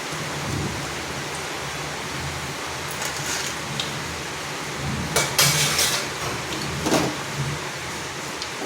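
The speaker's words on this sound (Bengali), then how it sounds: "আমাদের এদিকে প্রচুর বৃষ্টি পড়ছে" Heavy rain falls in a constant dense hiss, with a few louder surges of splashing and rumbling over the steady downpour.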